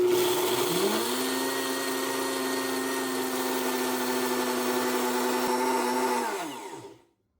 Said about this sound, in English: put them in a blender, and you get a super fine powder